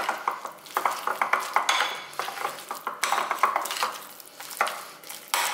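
Fish pieces being mixed into a gram flour and egg batter, with a utensil clattering and scraping against the bowl in quick, irregular strokes, close by and with no talking.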